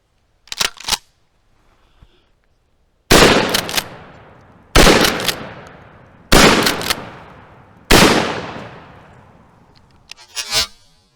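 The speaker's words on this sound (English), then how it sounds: "we're going to do some shooting now and see what this 12 gauge buckshot does" A 12-gauge shotgun fires buckshot outdoors in four loud, evenly spaced blasts. Each blast rings on in a long decaying echo. A few sharp clicks and handling noises come before and after the shots.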